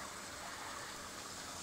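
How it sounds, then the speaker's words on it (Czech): Stored rainwater drains off in a faint, steady gushing rush, a continuous water noise without voices. "Tady teď odpouštíme dešťovou vodu, která se za tu dobu usadila."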